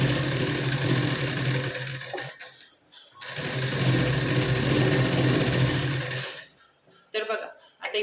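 A sewing machine double stitches the sleeve seam of a katori blouse, running loud and close for over two seconds, pausing briefly, then stitching again for about three seconds before stopping, with a little handling noise at the end.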